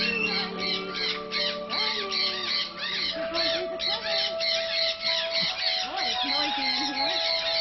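Lories in a parrot aviary at a Pigeon Forge, Tennessee bird garden give harsh, repeated squawks and screeches, loud and close, with a few people talking among the calls.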